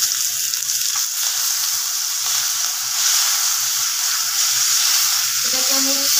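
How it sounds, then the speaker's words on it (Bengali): A fish head frying in hot oil gives a steady bright sizzle with a constant hiss throughout, and a voice speaks over it briefly near the end. "এবার এটা খুব ভালোভাবে ভাজতে হবে।"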